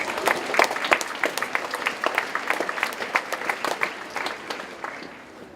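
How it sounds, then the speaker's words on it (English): An audience at a school assembly claps for guests, individual claps distinct and fairly close, steady at first and thinning out toward the end. "So can we give them a round of applause, please?"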